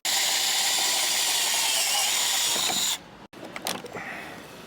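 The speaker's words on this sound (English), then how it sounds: "I've got to drill out all of these rivets before I can get access to it" A loud, steady drill grinds continuously for about three seconds drilling out rivets on a Land Rover Discovery tailgate, then cuts off, leaving clinks and light scraping of metal.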